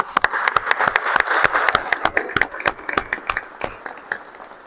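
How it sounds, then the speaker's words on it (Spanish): A congregation at a church service bursts into applause, a crowd of sharp, uneven claps ringing out close and loud before thinning near the end. "¿Quiere darle un aplauso al Señor?"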